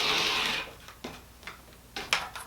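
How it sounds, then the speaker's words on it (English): Rotary or rolling cutter slicing through quilt fabric along a ruler edge for a whole-cloth quilt, heard as a soft sustained swish followed by several short, crisp cutting strokes at close range. "I'm going to line up the 1/2 inch line on my ruler with the edge of my quilt. And I'm going to make another cut now."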